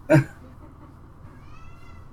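A cat gives one short, loud meow up close, calling for food, followed by a quiet room.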